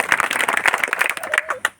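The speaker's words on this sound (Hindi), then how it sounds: "एक बार हम लोग प्रधान जी के लिए ताली बजाएंगे" Audience clapping for the village head at a village gathering in Kanhbhari, a dense burst of applause lasting under two seconds with a few voices mixed in.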